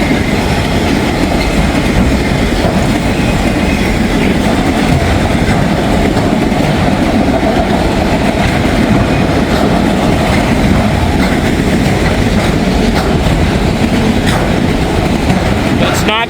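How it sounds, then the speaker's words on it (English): Rail cars rolling close by with a loud, steady rumble of wheels on track, metallic clanking and banging from couplers knocking together, and brief squeals, continuous for the whole stretch. "Those are the couplers banging against each other."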